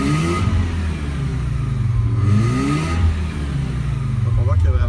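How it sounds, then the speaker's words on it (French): A well-maintained car's engine revs and pulls smoothly under acceleration with a steady mid-range roar that rises and falls. Someone talks over it throughout. "Donc on voit qu'il y a le bas quand j'accélère."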